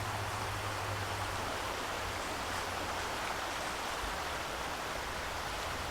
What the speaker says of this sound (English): The famous White River.